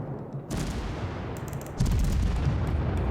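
Mogami Japanese cruiser in World of Warships firing a full gun salvo, a heavy booming burst that rumbles on, then a second louder wave of thudding blasts, with no talk over it.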